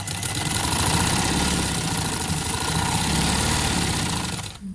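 An electric sewing machine stitches the seam of a plain trouser, running with a steady whirring hum and fast needle rhythm for several seconds, close and loud, before stopping abruptly at the end.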